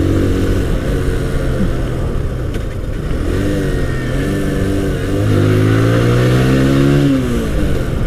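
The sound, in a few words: TVS Apache RTR 160 motorcycle accelerating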